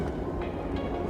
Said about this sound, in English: Kind of a shaky train.